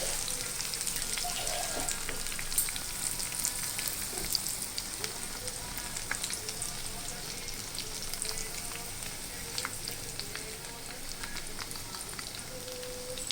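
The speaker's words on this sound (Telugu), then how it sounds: "ఈ గుమ్మడి పువ్వు ఇలా తీసుకొని ఇందులో డిప్ చేసుకొని ఈ ఆయిల్లో వేసుకుంటామండి" Battered pumpkin flowers frying in hot oil on a high flame, a steady close sizzle with crackling pops throughout, no voices.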